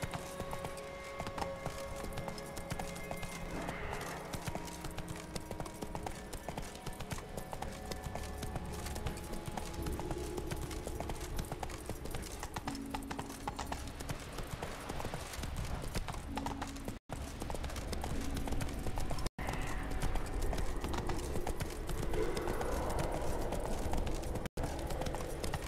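Roach, the horse in The Witcher 3, gallops in a continuous, rhythmic clip-clop of hooves under game music and ambient sound, steady for the whole stretch and slightly louder toward the end.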